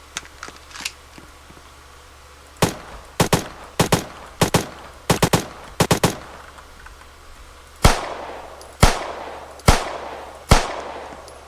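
Gunshots from realistic gun settings in the Alpha Engine video game, sharp loud cracks fired singly and in quick bursts, then slower spaced shots with ringing tails, no talking.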